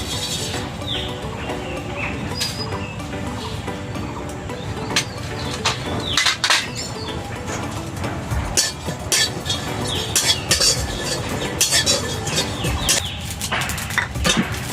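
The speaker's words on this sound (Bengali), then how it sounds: "আমি এখন জিরেটা হালকা ভেজে নেব।" Cumin seeds frying lightly in a pan while being stirred, a steady broadband sizzle dotted with scattered metallic clinks and scrapes from the utensil, close and continuous throughout.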